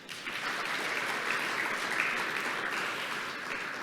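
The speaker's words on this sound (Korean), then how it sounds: "동의하시면 박수 한번 주시죠." Applause rises from the audience at a 2021 small-business management innovation convention, steady clapping that swells quickly and holds at moderate volume throughout.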